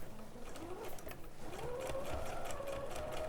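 A sewing machine stitches cotton fabric along a cord, giving a quick mechanical whirring hum that builds and settles into a steady tone over a few seconds, fairly quiet and close.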